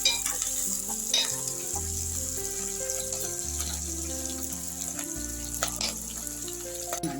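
Okra frying in a pan for a homestyle bendakaya pulusu, a steady crackling sizzle with occasional stirring scrapes and a few clinks of utensils, close and continuous with no talk.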